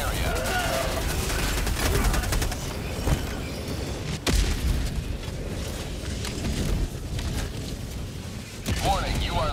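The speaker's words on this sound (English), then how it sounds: "Orbital barrage incoming." Orbital barrage striking in Helldivers: continuous loud rumbling explosions and crackling blasts layered over game noise, with heavier booms standing out at intervals.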